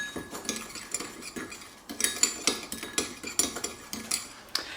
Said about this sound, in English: Now let's mix up the dry spices.